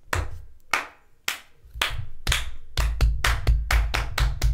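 Applause of a small group, starting as scattered single claps and swelling into brisk, steady clapping that stays close and fairly loud with no voices.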